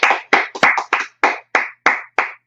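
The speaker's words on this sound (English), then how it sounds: "You want to clap?" About nine sharp, evenly spaced hand claps ring out close and loud in a steady rhythm during an evening scripture and law class, with brief silence between each clap.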